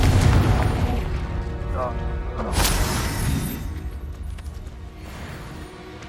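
The Confringo spell in Hogwarts Legacy bursts with a heavy booming blast that rumbles and fades over several seconds amid dense, loud combat noise, with voices in the mix.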